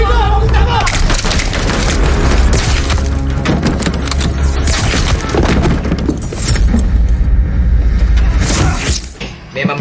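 A large explosion destroys a building full of police in the Malaysian action film Coast Guard, with a loud, dense, continuous roar of blast and debris that fills nearly the whole stretch before tailing off at the end.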